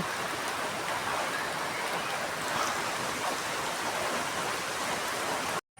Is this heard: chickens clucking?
no